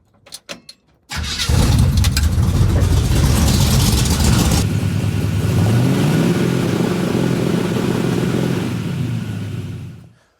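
A drag race C10 truck's big engine cranks and roars to life after a few clicks, then revs and settles into a loud, rumbling idle before cutting off near the end.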